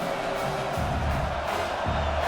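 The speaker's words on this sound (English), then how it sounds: "Decibels rising as the crowd gets behind this defense on third down" A stadium crowd at a football game cheers and roars for the defense on third down, a distant, steady wash of noise that swells slightly across the moment.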